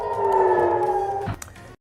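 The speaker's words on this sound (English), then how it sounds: "Sirens go off in Tel Aviv." An air raid siren wails over Tel Aviv during Iranian missile strikes, a loud sustained tone holding steady before breaking off and fading out, with no voices over it.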